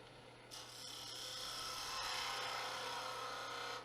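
A skew chisel pressed into spinning wood on a lathe gives a steady, continuous hissing cut with a low motor hum underneath, starting abruptly and holding even and close throughout.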